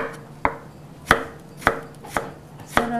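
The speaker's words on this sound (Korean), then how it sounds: "자, 그 다음에 당근도 길이가 한 4cm 정도로 이렇게 썰어서요." Carrot cut into 4 cm lengths with a knife on a board for Korean mustard salad, five sharp, close chops spaced roughly half a second apart, alone without talk.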